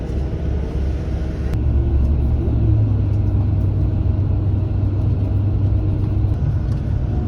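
Big white bus driving nearby in a warm Thai town, a loud continuous low engine rumble that swells slightly and holds steady, with no talking.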